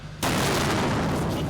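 A demining cannon fires during a mine-clearance demonstration: after a brief quieter moment, a single sudden, loud blast erupts and rolls on as a sustained roar.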